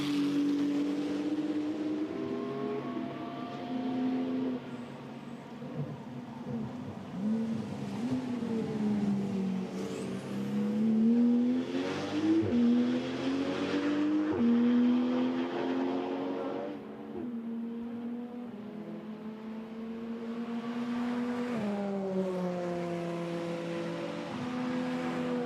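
GT2 race cars lap a wet Spa circuit during free practice, engines whining with pitch that climbs and drops as they accelerate and brake, rising and fading at moderate distance over a low background hum.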